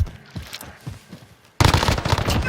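Gunfire in Call of Duty: Warzone, a rhythmic string of distant shots followed by a sudden louder, denser burst of close automatic fire.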